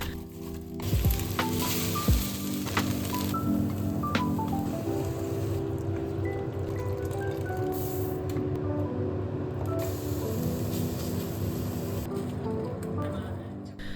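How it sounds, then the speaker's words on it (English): Lentil and paneer curry sizzling and frying steadily in a pan on a home stove, a constant loud crackle with occasional stirring scrapes and clanks. "Tonight I'm making a lentil and paneer curry."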